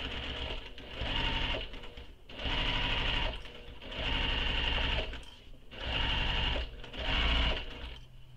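A sewing machine stitches seams on a mini crossbody bag, running in four or five steady whirring bursts of a second or so each, separated by short pauses, close and clear.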